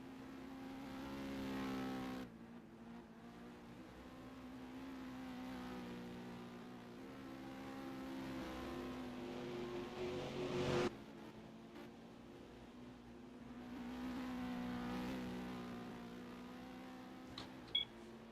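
GT race cars circulate at Autódromo Internacional de Tarumã, engines droning loudly with harmonic tones rising and falling as they pass, a sharp drop near the middle before another car's roar swells back in, no talking.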